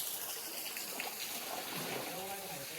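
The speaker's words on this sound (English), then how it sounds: "There's also a mini waterfall here." A small waterfall trickles onto an Auckland beach, a steady broadband rush of falling water close by, while a person talks over it near the end.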